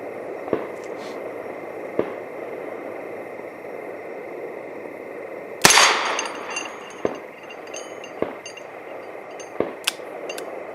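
A Smith and Wesson Victory .38 revolver fires double action at targets outdoors, sharp distant-sounding reports spaced a second or two apart, one louder blast with ringing tail, over steady background hum.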